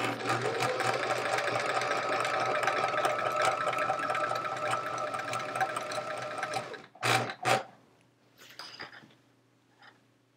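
A sewing machine stitches a chevron quilt top, running in a steady fast whir for about seven seconds, then stopping and giving a few short bursts, close and alone.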